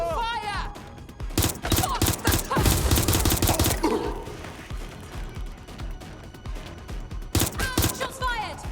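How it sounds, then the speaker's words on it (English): Gunfire in Watch Dogs Legion set in London: dense bursts of rapid shots and fusillades, loud and close, with crashes between volleys and shouted voices over the fighting. "Shots fired!"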